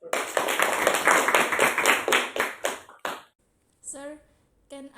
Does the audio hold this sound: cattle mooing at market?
no